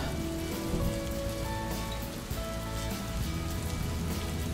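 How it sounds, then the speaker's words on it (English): Steady rain patters on a surface, a dense continuous hiss of drops, fairly close and even, with no voices. "Now it is raining in Soggy Hollow"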